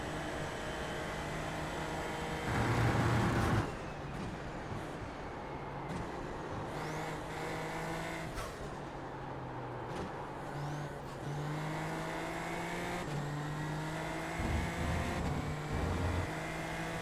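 A race car in the iRacing simulator, compared to a vacuum cleaner in sound, whines through rising and falling engine tones as it shifts and accelerates, with sustained revving under the whole stretch.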